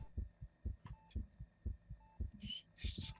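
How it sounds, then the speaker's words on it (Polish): Rhythmic heartbeat thumps from the video game Among Us, a steady series of low double-pulse beats at moderate pace, quiet, with brief electronic beeps and short hissy bursts layered near the end. "jakie bicie serca jest wkurzające"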